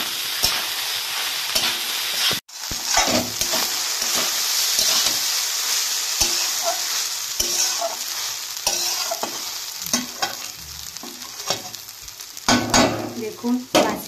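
Leftover rice and vegetables stir-fried in a pan sizzle steadily while a spatula scrapes and clinks against the metal in irregular strokes, close and clear.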